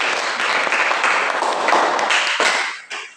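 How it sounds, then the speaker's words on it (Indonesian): A classroom group breaking into applause, a close, bright burst of clapping that holds steady and then thins out and stops near the end, leaving a final stray clap. "Ya, tepuk tangan untuk."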